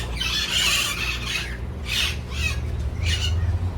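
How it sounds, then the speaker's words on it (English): Yellow parrots in a Jamaican zoo enclosure let out harsh, loud squawks in three bursts, the first long and the others shorter, over a constant low rumble of background noise. "And then we have the parrots here. Yellow bird parrot. Like a lot of noise."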